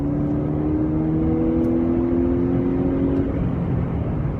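A 2015–2016 Ford Fusion with the 2.0 engine accelerating, its tone rising steadily as the revs climb, loud and close from inside the car, with no talking.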